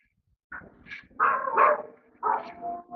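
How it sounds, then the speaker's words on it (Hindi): A dog barks outdoors in several short, loud bursts, each followed by a brief pause, with no talking over it. "उधर भी बाहर कुत्ता भौंक रहा है"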